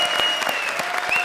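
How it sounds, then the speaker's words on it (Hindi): An audience on a comedy show set claps loudly, a dense burst of applause filling the whole short stretch. "जोरदार तालियां"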